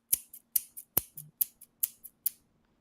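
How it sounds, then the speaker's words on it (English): Scissors snip repeatedly in a brisk, uneven rhythm, about ten crisp metallic clicks close up in an otherwise quiet room, fading out at the end. "That's scissors. That's what I'm gonna cut up the purse with."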